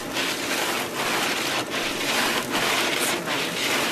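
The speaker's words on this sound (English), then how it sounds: "Oh, it is ice pellets." Ice pellets pelt a car windshield in a dense, steady hiss of fast, hard ticks, close and continuous with slight swells in intensity.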